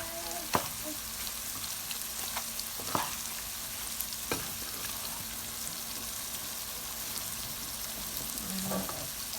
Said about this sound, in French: Je fais revenir le tout ensemble.